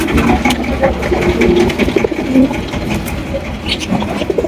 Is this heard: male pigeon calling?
yes